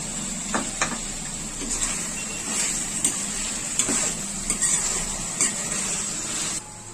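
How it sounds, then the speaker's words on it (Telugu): Paneer pieces, a quarter kilo, frying in a pan for paneer pulao, giving a steady close sizzle with scattered clicks and scrapes of stirring throughout, no talking. "అవి కూడా వేసి ఒక 5 నిమిషాలు వేయించుకున్నాము."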